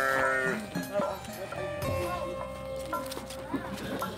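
Sheep in a pen at a Garut sheep farm in Cibuluh, with bleats rising among farm noise as someone talks over them close by.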